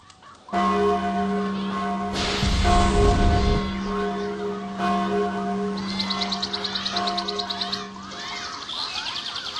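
Alarm bells ringing in the fantasy video game Sudeki, a sustained tolling bell tone with strong ringing harmonics, loud and steady, joined by a brief burst of noise and later chirping, bird-like twitters.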